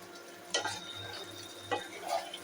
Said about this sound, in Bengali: এটাকে আমি সুন্দর করে কষিয়ে নেব, কষিয়ে একদম ঝোলটাকে সম্পূর্ণ মেরে ফেলবো